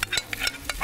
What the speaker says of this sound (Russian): Чтобы сделать такой вот блинчик из крапивы, сначала смазываем сковороду салом.